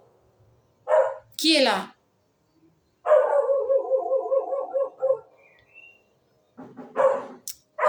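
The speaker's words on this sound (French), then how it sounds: "Il faut qu'on attache les chiens." Dogs bark indoors in short, repeated bursts, with a yip or whine mixed in. Someone speaks French between and over the barking.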